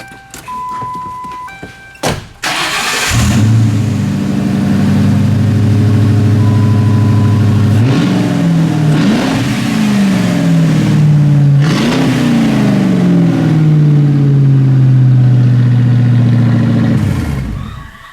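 A turbocharged car engine cranks and catches, then idles with a steady rumble, revving up sharply twice before settling and cutting off at the end.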